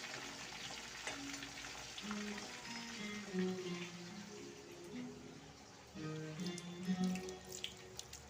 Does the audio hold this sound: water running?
yes